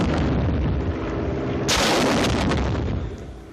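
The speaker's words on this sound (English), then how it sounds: "And these rockets are fired the same, with one exception." Aerial rockets firing in quick succession, heavy booming blasts with a sharp loud burst midway, close and loud, fading at the end.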